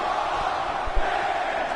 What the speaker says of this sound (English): And the crowd is chanting for Rob Van Dam.